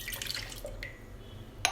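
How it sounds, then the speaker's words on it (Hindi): Half a cup of milk pours into a blender jar as a soft, close liquid stream with light dripping, ending in a sharp little clink. No one talks. "हम हाफ कप मिल्क डालेंगे"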